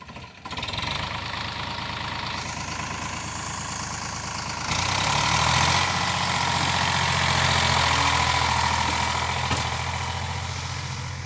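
Tractor engine running steadily as it pulls forward through a maize field during harvest loading, a loud close diesel drone with knocking idle rhythm that rises in intensity midway as it moves.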